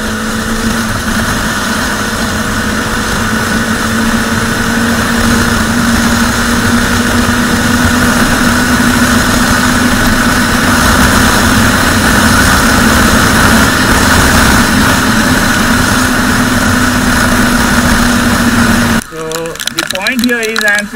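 A Bajaj Dominar 400 motorcycle engine drones loudly and steadily at speed with a strong, even tone, holding nearly constant until it breaks off abruptly near the end.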